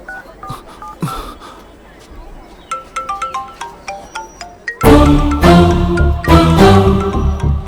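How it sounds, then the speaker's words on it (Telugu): A mobile phone ringtone plays as a string of bright melodic notes, then swells halfway through into a louder, fuller musical passage, with voices faintly beneath. "ఫోన్ రింగ్ అవుతుంది"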